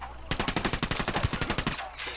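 A rifle fires in Ghost Recon Wildlands with a quick burst of about a dozen sharp, evenly spaced shots over roughly a second and a half, loud and close, then it stops.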